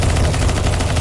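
Loud, close, unbroken automatic gunfire sprays rapid shots at a zombie in a CS:GO zombie escape mod map, filling the whole moment without pause.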